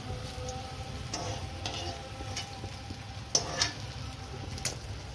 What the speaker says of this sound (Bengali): এদিকে মশলাও ভাজছি গ্রেভিটা, আর এদিকে আমার ক্যাপসিকামও ভালো করে ভাজা হয়ে গেছে